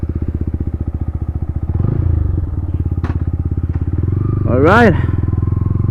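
A Yamaha MT15 motorcycle with a titanium Akrapovic exhaust idles close by with a rapid, loud pulsing throb, rising briefly in a short rev, while someone speaks a few words over it.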